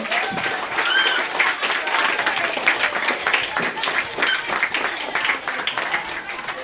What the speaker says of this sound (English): let's give a warm round of applause to everyone who spoke today